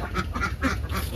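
Ducks on a small farm flock of about twenty birds quack in quick, close, loud bursts, several calls overlapping in a short run with no talking.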